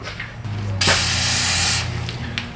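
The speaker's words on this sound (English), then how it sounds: "Little thread chasing lubrication, aka whatever you got in a can." An aerosol can sprays thread-chasing lubricant onto a threaded axle part, a steady hiss lasting about a second over a low background hum, followed by faint clicks.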